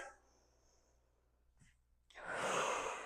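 A slow, deep breath drawn in through the nose during a glutes and hamstrings workout, soft and close, followed by a louder rushing exhale.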